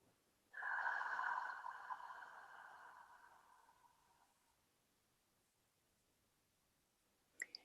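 A single deep breath is drawn in slowly to expand the lungs, loud and close, then tapers off gradually into quiet, with no talking.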